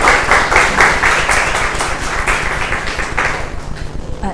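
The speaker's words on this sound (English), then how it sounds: "please give a round of applause for Isabel Sastre" An audience at a lecture applauds as the speaker is introduced, a moderately loud crowd clapping that swells early and gradually thins, with some voices faintly underneath.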